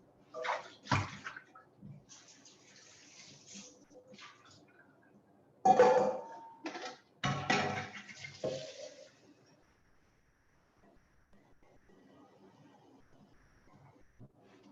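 Water poured into a three-quart pot to boil cocoyam for bitter leaf soup, coming in a few short splashing bursts with quiet pauses between and near silence at the end.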